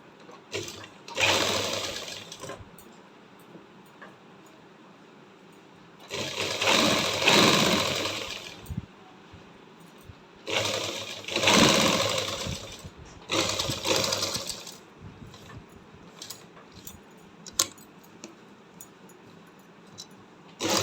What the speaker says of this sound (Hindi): अब हम इसमें सिलाई लगाएंगे।